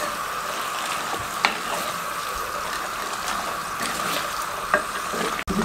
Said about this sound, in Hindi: इसके अंदर भुनाई कर लें।